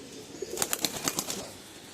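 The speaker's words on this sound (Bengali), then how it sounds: "এই যে পায়রাটা দেখুন, আরও পায়রা আছে দাদা" A pigeon in a cage stirs with a quick run of faint, close wing flutters and taps lasting about a second, with no talking.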